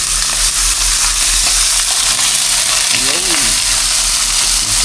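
Food sizzles and crackles steadily in a hot pan, a dense continuous hiss close by, with a faint voice briefly under it.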